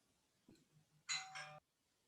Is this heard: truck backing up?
no